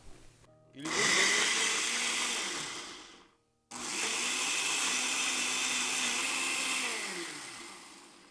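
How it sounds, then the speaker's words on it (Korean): A kitchen blender grinds dried mild chili peppers with about half a cup of water, its motor whirring loudly in two bursts separated by a brief pause, pitch sagging as each run winds down. "제 건고추는 맵지 않은 건고추입니다 완전히 갈아주겠습니다"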